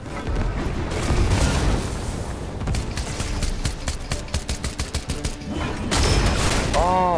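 Gunfire and explosions in the Fortnite video game, a rapid burst of sharp shots and booms, loud and close, with some quieter stretches and mechanical clicks between volleys.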